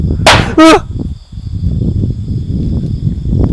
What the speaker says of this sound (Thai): หลังคาลั่นนะครับ